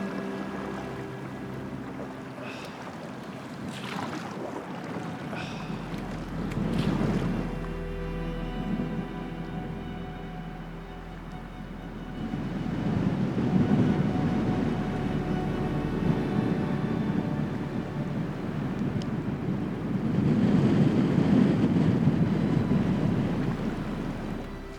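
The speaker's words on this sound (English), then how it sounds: "Holy man, is that ever windy going across Canoe Lake." Strong wind gusting across Canoe Lake in Algonquin Park during a canoe trip, a steady roaring rush with choppy water beneath that swells louder in surges toward the end.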